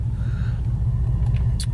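A 2007 Pontiac Grand Prix GXP engine after sitting nearly three days in 16-degree cold: a steady, deep, close idle rumble with a few faint clicks near the end.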